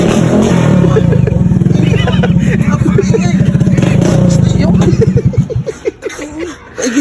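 A motorcycle with its exhaust muffler removed revs loudly and close, with a rough, rapid pulsing roar that climbs and then breaks into sputtering bursts as it winds down, while people chatter and laugh nearby.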